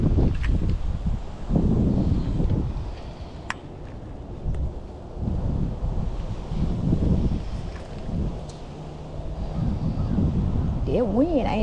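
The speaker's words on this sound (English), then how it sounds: "That wind ain't no joke." Strong gusts buffet the microphone out on a lake during crappie fishing, producing heavy low rumbling wind noise in repeated surges, with a voice speaking over it near the end.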